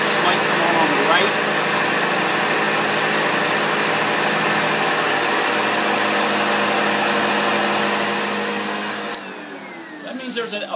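A Sebo vacuum cleaner runs loud and continuous with its airflow blocked, a strained, high-pitched whine that holds steady before dropping in pitch and level near the end as the suction changes.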